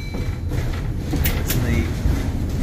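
A streetcar coasting along its rails without power gives a steady low rumble and rolling noise, with a couple of brief high squeals partway through and no clear talking.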